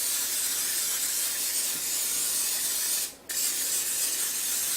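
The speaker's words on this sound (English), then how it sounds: "I'm going to spray thoroughly with my cooking spray." Cooking spray hisses steadily onto a muffin pan in one long continuous burst, close and bright, with a brief pause near the end before spraying resumes.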